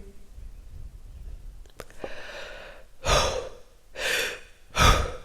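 Quick, forceful breaths in and out during a breathing exercise: a faint intake, then three loud, close, rushing breaths about a second apart, with no talking.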